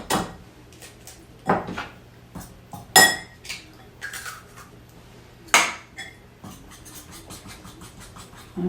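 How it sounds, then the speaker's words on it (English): A fork beats an egg into flour in a bowl, sending out scattered clinks and scrapes of metal on the dish in irregular bursts, close and fairly quiet, with no one talking. "I'll kind of beat the egg in the center before I even, then I try to bring that flour through here."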